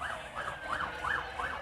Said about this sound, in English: Some sirens coming through in the meantime.